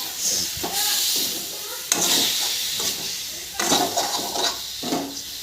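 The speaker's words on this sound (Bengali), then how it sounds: "এখন সিমগুলি দিয়ে দিয়েছি। এগুলি একটু ভালো করে ভাজতে হবে।" Boiled flat beans (sheem) frying in a pan at home, giving a steady close sizzle with bursts of stirring and scraping, alone without talk.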